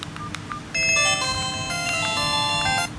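A Masstel Fami 12 basic MediaTek phone plays a bright electronic messaging tone, a short melodic jingle of clear beeping notes, loud and close over faint room noise.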